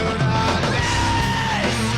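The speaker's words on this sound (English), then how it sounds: "I want to hear this last scream." A recorded scream take rings out as one short, loud, sustained yell that bends upward and then fades, heard alone without talk.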